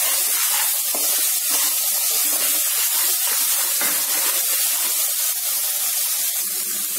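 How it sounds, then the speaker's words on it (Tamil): Ginger garlic paste sautéing in oil for a chicken gravy, a steady loud hiss and sizzle running continuously and close throughout, with no talking. "எண்ணெய் பிரிஞ்சு வர வரைக்கும் வணக்கிக்கலாம்"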